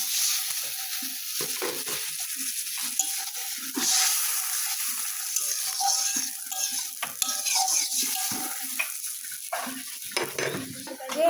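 Water hits a hot cooking pan and sets off a strong, bright, continuous sizzle, with stirring and scraping clinks of a utensil against the pan throughout.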